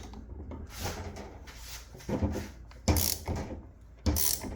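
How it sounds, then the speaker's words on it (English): A wrench turns out the engine case bolts on a Yamaha YZ80, making a series of close ratcheting clicks and metallic clunks that come in uneven bursts. "Get our 17 again. Make sure you got all the bolts out."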